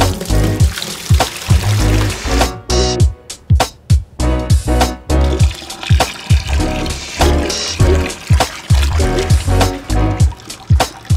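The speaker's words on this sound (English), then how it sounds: "I'm gonna add some chilled water to my bucket and then drain the wort on top of that" Beer wort pours and gurgles loudly from a brewing kettle into a bucket of chilled water in repeated surging bursts, close by and continuous.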